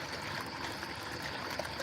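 Water trickles steadily at a small water hole outdoors, a soft continuous babble that stays faint and even throughout.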